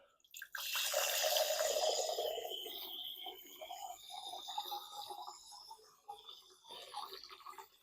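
Beer dispensing from a tap fitted to a home fridge: a steady close rushing pour for a couple of seconds, then easing into softer trickling and dripping with small splashes.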